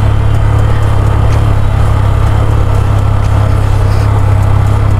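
A motorbike descending a steep downhill mountain road in Bangladesh in third gear under engine braking, producing a loud, steady low engine drone with wind rush and no voices.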